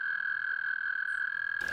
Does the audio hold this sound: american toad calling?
yes